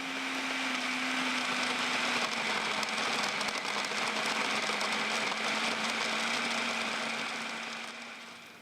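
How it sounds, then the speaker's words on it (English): A kitchen blender runs steadily for several seconds, whirring close and loud with an even motor hum as it grinds ingredients into a crumbly mixture for coconut-rolled treats, no talking. "it'll blend up into a sort of a crumb consistency"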